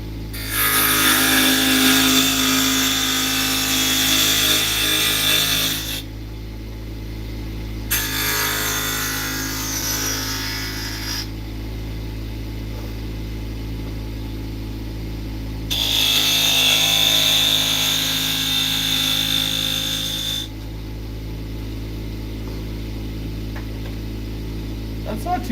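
Wood turning on a lathe as the top of the piece is trimmed to remove the live-center divot, giving bursts of loud scraping, cutting noise between quieter stretches of steady motor hum.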